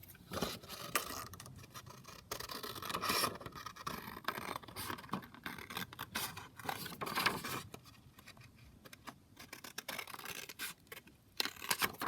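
Scissors cutting around a paper journaling card, with soft close scraping and snipping in an irregular run, quiet and with no talk.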